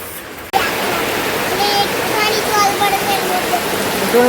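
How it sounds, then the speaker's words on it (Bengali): Heavy rain pours outdoors in a steady, dense wash after a brief quieter start, with faint voices and bird-like chirps over the constant downpour. "দেখো বাইরে, দেখো ভালো জোরে বৃষ্টি হচ্ছে, দেখো বিশাল জোরে বৃষ্টি হয়ে গেছে"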